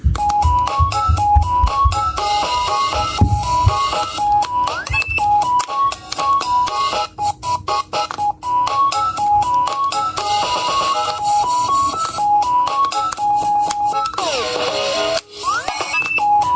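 A bright electronic sequenced beat of bleepy synth notes from a Teenage Engineering PO-33 K.O pocket operator loops in a repeating pattern, with a short glide of rising tones near the end.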